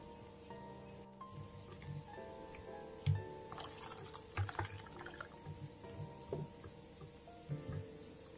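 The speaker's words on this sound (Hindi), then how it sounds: "और इस तरह हम सारा दूध इसमें डाल लेंगे।" Hot milk is poured a little at a time into a pancake batter mixture, producing faint trickling and splashing with a few louder splashes, quiet throughout with no talk.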